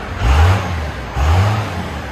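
A Dodge Ram 2500 with a 5.9 Cummins turbo diesel and straight-pipe exhaust revs twice in quick succession, each blip a loud, deep, close roar that falls back to idle.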